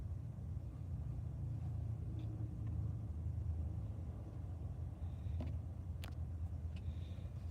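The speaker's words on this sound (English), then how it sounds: "you can see the busy Interstate 5 in the background" Traffic on busy Interstate 5 gives a continuous low rumble of cars and trucks in the background, with a few brief sharper sounds around it and no talk.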